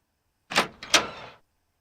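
A door in a video game opens with two quick, loud mechanical swooshes, a short sliding rush that fades out after about a second against silence.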